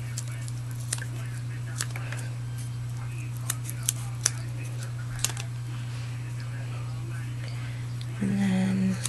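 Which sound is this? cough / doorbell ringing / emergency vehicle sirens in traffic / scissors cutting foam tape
scissors cutting foam tape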